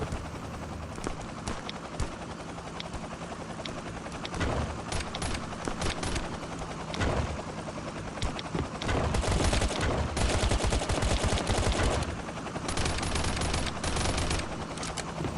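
Dense gunfire and bursts in the survival shooter game Last Island of Survival, with rapid weapon fire, helicopter-fight chaos and loud continuous shooting that grows heavier in the second half of the stretch.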